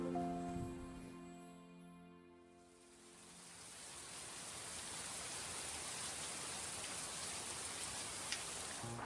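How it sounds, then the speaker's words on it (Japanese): Night rain falls steadily around a 160-year-old farmhouse in a continuous soft hiss that starts faint, dips, then swells and holds evenly, with a faint tonal hum fading out early. "夜寝るときに雨の音とか、あと虫の鳴き声とかが聞こえて大自然を感じました"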